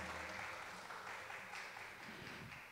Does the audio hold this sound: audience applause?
yes